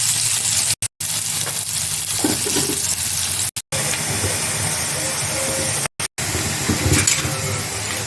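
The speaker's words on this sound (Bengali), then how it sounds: "উচ্ছেটাকে ভালো করে ভেজে নেব" Bitter gourd frying in hot oil in a pan, a steady loud sizzle and hiss with occasional stirring, broken by a few short cuts of silence.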